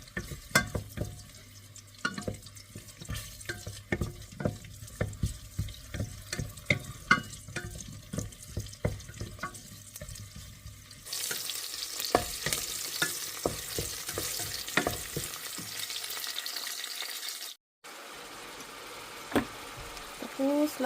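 Onion and garlic sautéing in a pan for a creamy pasta with vegetables and turkey: a steady sizzle with frequent scraping and tapping from stirring, growing into a louder, brighter hiss partway through, then briefly cutting out before resuming.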